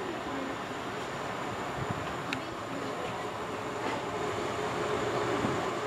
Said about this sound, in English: it's Cardiff Central, it's a delayed service from Taunton